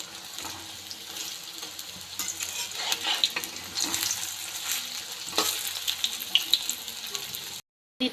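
Mustard flower pakoras fry in hot oil, giving a steady crackling sizzle with a few brief stirring scrapes, close and moderately quiet, ending in a moment of silence.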